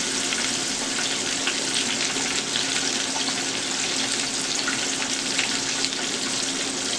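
Pork chops deep-fry in hot oil, giving a loud, steady, dense sizzle and crackle that runs unbroken from start to finish.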